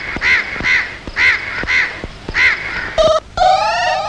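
A crow caws repeatedly in a steady, evenly spaced series of harsh calls, loud and close, followed by a few higher, shriller bird calls at the end.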